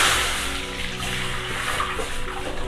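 Dissolved tamarind mixture is poured into a pot of kalyana murungai rasam, making a loud, continuous liquid rush and splash that fades slightly, close by with no talk.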